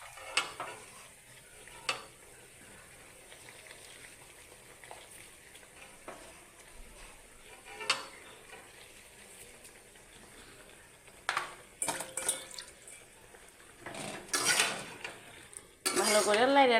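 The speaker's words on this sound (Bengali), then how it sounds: "ভালো করে লাইরা টাইরা ঢাকা দিতেছি।" A milk colocasia curry being stirred in a metal pot, with intermittent scrapes and clinks of a spoon against the pan and a lid knocking on at the end, close and sparse over quiet background.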